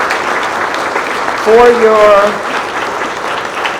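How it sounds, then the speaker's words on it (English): An audience at a synagogue breakfast applauds for elected officials, producing a continuous soft patter of clapping, while a voice briefly speaks over it near the middle. "We would like to give you a round of applause for your elections"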